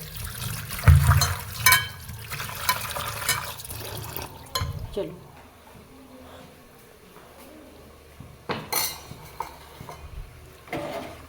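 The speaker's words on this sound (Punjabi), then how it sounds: "ਇੱਕ ਪਾਣੀ 'ਚ ਆਪਾਂ ਹੋਰ ਧੋ ਲੈਂਦੇ ਆ" Sweet potatoes are washed in water, giving sloshing splashes and trickles in irregular bursts, near and fairly loud, with quieter gaps between handlings.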